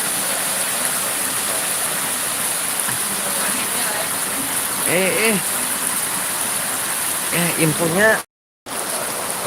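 Steady rain hisses and rushes around a motorcycle rider on the road toward Sekumpul, Martapura, a constant wash of noise with brief voice and tonal sounds over it, cutting out abruptly near the end.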